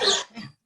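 An elderly dog gives a short, close cough, one harsh burst followed by a softer second rasp.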